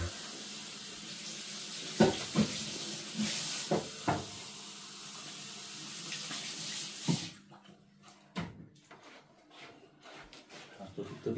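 Water gushes steadily from a tap for several seconds, with clunks of handling, then cuts off, leaving a quieter room with scattered knocks and movement.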